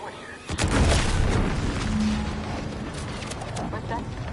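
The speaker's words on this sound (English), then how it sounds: "What's that? An explosion?" A deep, booming explosion in Outer Worlds 2 hits with a heavy low-end thud followed by crackling rumble, with a voice speaking afterward.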